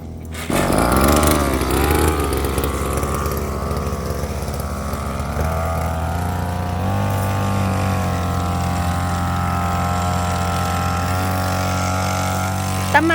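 A small engine runs steadily and loud, its pitch climbing as it revs up, then holding at a high drone.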